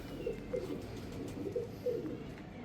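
Black Panther pigeons cooing in a loft, a series of four soft, low, rhythmic coos spaced about half a second to a second apart, close and moderately quiet over faint background hum.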